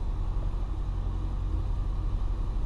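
A long-parked old bus idles steadily after starting, a continuous low engine rumble holding even and close with no voices.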